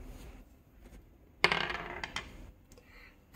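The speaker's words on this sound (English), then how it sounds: "I am going to roll this dice" A die is rolled onto a table for a number game: a sudden hard clatter followed by a few quick rattling bounces and a light tick as it settles, close and alone in a quiet room.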